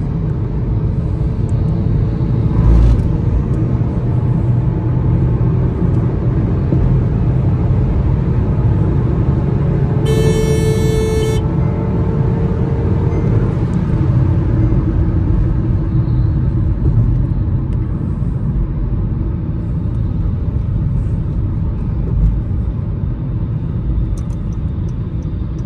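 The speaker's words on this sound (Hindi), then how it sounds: "अगर हम इसको थोड़ा सा पुल करें अब, तो जैसा कि आप देख सकते हैं इसका पिकअप काफ़ी अच्छा है, गाड़ी बहुत इजीली 100 पे आ गई है" A fourth-generation Honda City accelerates hard in fourth gear at speed, a steady loud engine rumble mixed with road and wind roar from inside the cabin, continuous throughout with a brief electronic beep partway through.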